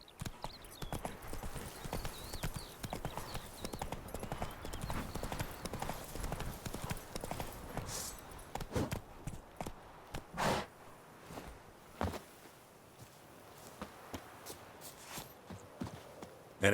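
Roach, the horse in the video game The Witcher, clip-clops along at a steady walking pace, hooves loud and close, with a snort or whinny mixed in.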